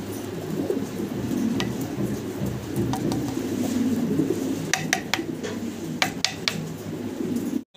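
Imported fancy pigeons in a Bangladeshi loft murmur with low, continuous cooing, while scattered sharp clicks and rustles of wings and feet punctuate the steady background.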